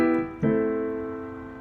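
Piano playing in the Aeolian mode: a sustained chord rings, then a new struck chord enters and decays slowly, clear and close with no talk.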